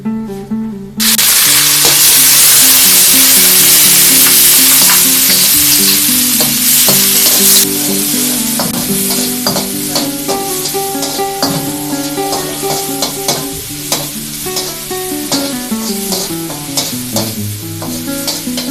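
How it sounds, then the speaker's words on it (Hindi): Chicken fries in oil in a pan with loud, continuous sizzling, a sharp burst as it hits the hot oil and then a steady crackle with frequent scraping stirs throughout. "इसको चिकन को थोड़ा सा ऑयल डाल के फ्राई कर लेंगे।"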